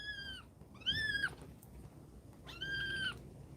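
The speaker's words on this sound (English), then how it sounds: "The remnants of the old barn cats." Barn cats living beside farmland meow on a porch, three drawn-out, plaintive cries spaced apart, fairly close and clear over quiet outdoor background.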